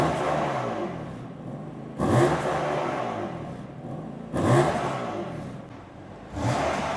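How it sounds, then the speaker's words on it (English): A stock-exhaust BMW F80 M3 engine revved repeatedly, three sharp throttle blips roughly two seconds apart, each rising then settling back toward idle, loud and close with no talking. "Should we give it some stock revs first so people can hear what it sounds like?"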